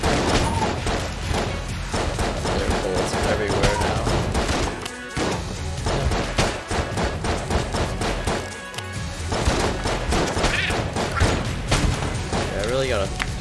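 Dense, relentless gunfire and bullet impacts from the video game Enter the Gungeon, rapid overlapping shots and thuds filling the whole stretch with brief dips, mixed with game music and speech.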